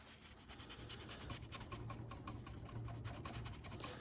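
Steady, close rasping rub on a sticky Chris Reeve Sebenza 31 knife blade as leftover adhesive is scrubbed off, a dense continuous scraping with faint repeated strokes running the whole stretch.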